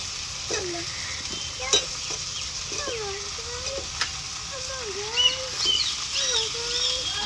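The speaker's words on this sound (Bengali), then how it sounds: "ধুয়ে রাখা আলুগুলো দিয়ে দেবো।" Washed potatoes fry in hot spiced oil for a fish and potato curry, a soft, continuous sizzle broken by occasional stirring scrapes and small clicks.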